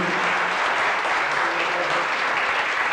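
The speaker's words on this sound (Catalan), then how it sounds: "un gran aplaudiment per a Jordi Miranda" A crowd at a 1997 tribute event in Alcarràs claps for Jordi Miranda, giving loud, sustained applause from many hands that runs evenly throughout.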